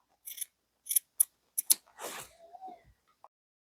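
Scissors snip into the seam allowance of fabric while a bustier is draped, giving several short, crisp cuts up close in a quiet room, followed by a brief rustle.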